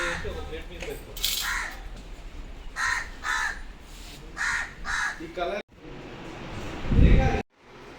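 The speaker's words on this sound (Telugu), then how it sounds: "ఈ వీడియో తీస్తున్నంతసేపు ఈ కాకి ఒర్రుతూనే ఉన్నది" A crow caws repeatedly in short bursts, fairly close, with a few clattering and shuffling noises in between.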